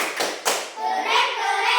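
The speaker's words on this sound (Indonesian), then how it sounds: "Sekarang kita beri tepuk tangan untuk Rania" Children in a classroom clap together for a classmate, a few sharp rhythmic claps at first giving way to a bright, sustained burst of clapping and excited chatter.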